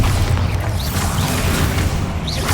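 A Bombarda spell blast in Hogwarts Legacy: a loud, sustained booming rumble with heavy low-end roar that fills the entire moment, dense and continuous.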